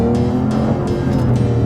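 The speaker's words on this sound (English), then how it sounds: "6-liter V12, 568 horsepower, and just listen to the sound it makes." A 2016 Aston Martin Vanquish with a 6-liter, 568-horsepower V12 engine sounds close and loud, a deep, steady drone holding strong low harmonics with slight rises in pitch.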